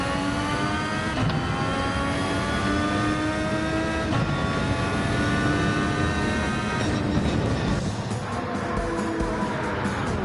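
Loud, close racing engine of a Honda MP4/4 in Gran Turismo 7, holding a high whine that climbs and drops sharply at several upshifts, with no speech over it.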